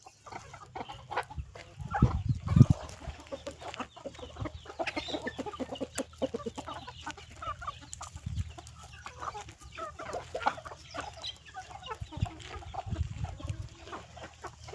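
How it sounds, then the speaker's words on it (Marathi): A free-range country rooster on a farm clucks in irregular bursts, loudest near the start and then scattered softer calls over a steady outdoor background, with no talking. "हे आहे आपला राजा कोंबडा आपल्या फार्मवरला."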